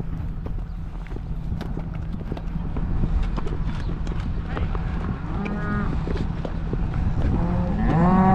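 Cattle at a barn during calving season, with low lowing and shuffling hooves close by and a louder cow moo rising near the end, under steady ambient farm noise.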